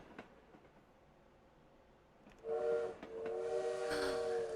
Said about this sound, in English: It's a train whistle.